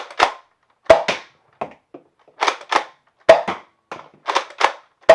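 A Nerf Rival Kronos blaster fires round after round indoors, each shot a sharp snapping pop with a short tail, coming in an irregular series of roughly a dozen with silent gaps between and no speech.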